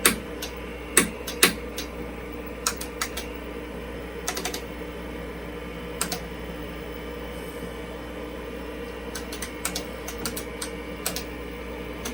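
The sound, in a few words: typing on a computer keyboard with a faulty I key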